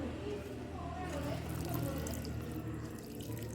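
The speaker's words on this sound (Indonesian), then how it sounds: "lalu kita siram dengan air" Water poured over young plants in soil-filled polybags during a plant physiology practical, a steady wash of running and splashing water lasting the whole moment, with a voice heard faintly beneath.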